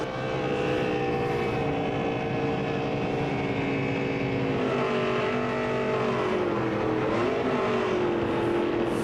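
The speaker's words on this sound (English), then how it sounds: "Let's do the burnout while we're climbing out of the car." A NASCAR race car does a victory burnout after the 2012 Kansas Lottery 300, a loud, sustained engine roar whose pitch wavers and slides for about nine seconds with no voices.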